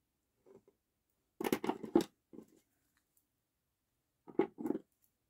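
Scissors cutting paper at close range, a quick cluster of several crisp snips, a pause, then a couple more short snips, quiet and isolated against a silent background.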